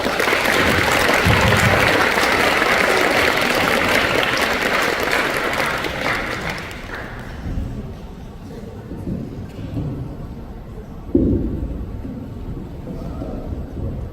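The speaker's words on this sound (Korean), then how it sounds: "여러분들 뜨거운 박수로 다시 한번 환영해 주시기 바랍니다" A student audience gives warm applause at a guest lecture by National Assembly member Choi Chun-sik: thick, loud clapping for about seven seconds that then dies away into a quieter room with scattered thumps and shuffling.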